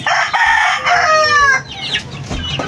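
Chicks waiting to be fed on a farm chirp and cluck in a loud, busy chorus of high calls, crowded close together, fading into scattered softer peeps.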